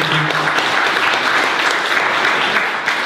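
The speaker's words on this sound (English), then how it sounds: "can we get a big round of applause for Sarah?" An audience at a talk on the history of the Irish trans movement breaks into applause, dense steady clapping at close range for the full few seconds.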